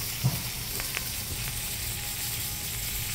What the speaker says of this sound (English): This was the sizzling fish one.